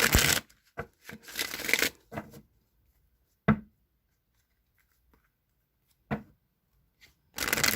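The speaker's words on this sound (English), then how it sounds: "I'm going to go ahead and just shuffle the Rider-Waite deck for you guys" A Rider-Waite tarot deck is shuffled in several quick riffling bursts separated by quiet gaps, with single crisp card snaps in between; no voice is heard.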